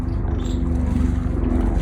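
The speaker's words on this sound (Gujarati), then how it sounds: "ઓલા પણ જો હેલિકોપ્ટર જાય છે" A helicopter passes overhead, heard as a steady low throbbing rumble that stays even and fairly strong through the brief moment.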